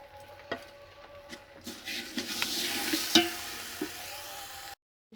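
A spoon stirs rice with sugar and milk for sweet zarda in a pot, with soft scraping and a few clinks over a faint sizzle, fairly quiet, ending in sudden silence.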